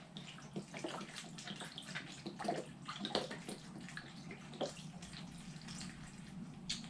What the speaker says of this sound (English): But I want to put in here 1 container of beef broth.